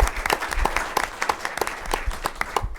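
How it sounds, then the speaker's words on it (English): A crowd applauds steadily at a school board meeting honoring a recipient, many hands clapping together in a dense, continuous burst that fades at the very end. "Let's give her a round of applause."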